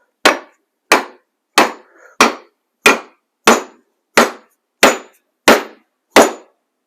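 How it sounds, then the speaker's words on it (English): A hammer seats an axe head onto its wooden handle with ten sharp, evenly spaced whacks, each a crisp, close impact that rings briefly and dies away before the next. "Stick it on as far as you can, and then give it a few whacks."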